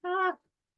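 A single short cat meow, clear and fairly close, a harmonic vocal call lasting about a third of a second, then silence.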